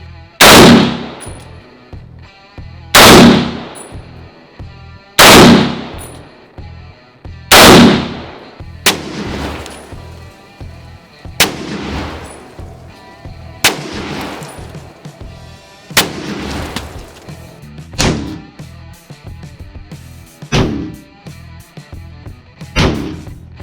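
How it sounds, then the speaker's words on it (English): Loud rifle shots crack one after another, each blowing up fruit with a sharp burst and spray of debris, followed by several quieter pops and impacts. "let's blow up some fruit."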